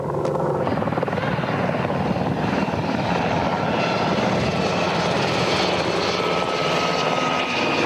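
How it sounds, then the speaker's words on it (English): Medevac helicopter circling overhead during a combat rescue in Shkin, Afghanistan, its loud continuous rotor thump and engine whine filling the whole stretch, close and steady with no talk. "The medevac chopper now circling in."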